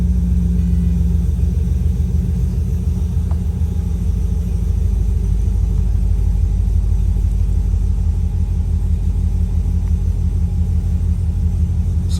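A Pontiac GTO idles steadily with no load and the AC off, a close, continuous low rumble with a faint hum and no voices.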